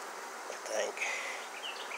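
Honey bees buzz close around an opened hive during combing, with several overlapping high drones and whines passing near.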